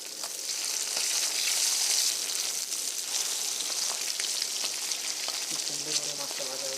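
Fish pieces fry in hot oil in a village-style pan, a dense steady sizzle that swells early, then settles, with a soft clatter as a piece is flipped near the end.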